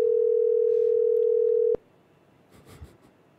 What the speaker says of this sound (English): Making a quick phone call